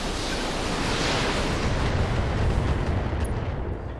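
Heavy weapons fire in the Battletech mech video game, a dense, continuous rumbling barrage of blasts filling the whole stretch, with no voices.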